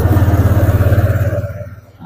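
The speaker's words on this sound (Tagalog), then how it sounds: "So, on natin ulit yung motor." A Honda Click scooter engine runs with a rapid, even putter close by, then cuts out and fades after about a second and a half.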